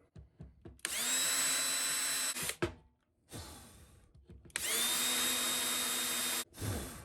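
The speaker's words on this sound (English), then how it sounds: "I'm countersinking these. I can feel free to go right on this metal bench because my bit doesn't even go through the wood" A power drill countersinks holes in bamboo flooring on a metal bench, whining loudly in two sustained bursts of about two seconds each, separated by shorter clicks, knocks and handling noise.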